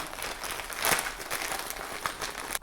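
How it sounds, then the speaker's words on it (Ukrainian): Two thin plastic bags are opened while air-layering a ficus benjamina bonsai, giving a soft, close crinkling and rustling that continues for a few seconds at low volume. "Відкриваю обидва пакета"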